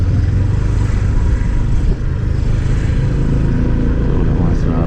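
A Honda PCX scooter engine under throttle sits beneath a loud, continuous rush of wind buffeting, with a steady low drone and a brief dip in level partway through.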